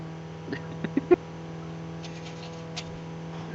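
A car in third gear picking up speed past 60 km/h, its engine a steady mid-pitched drone with a few small clicks and knocks over the top, fairly quiet and even throughout.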